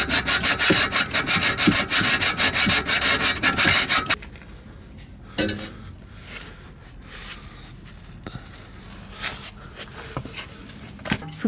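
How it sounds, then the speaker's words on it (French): Hacksaw cutting through a partly cut metal exhaust pipe while changing a muffler, fast loud rhythmic rasping strokes for about four seconds, followed by quieter scraping and handling sounds. "il faut terminer à la scie à métaux"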